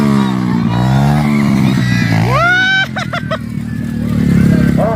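Enduro trail motorcycles race past at a Barangay San Pascual event in Quirino, Diffun. Loud, close engine whines rise in pitch, then sharp revving bursts follow, with crowd noise and shouting underneath.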